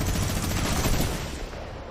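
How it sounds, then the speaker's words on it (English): A minigun firing in Fortnite during a World Cup solos match, a dense, continuous rattle of rapid shots that tapers off near the end. "Shots through. Minigun,"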